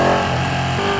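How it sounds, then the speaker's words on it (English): A Ducati 899 Panigale motorcycle engine gives a short, loud rev bump, with a dense, steady mid-pitched roar close by that shifts in tone partway through. No voices. "Little rev bump."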